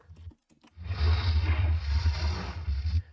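A low, rumbling roar swells in after a couple of faint taps and holds steady, deep and heavy like a distant tremor, with hissing texture on top.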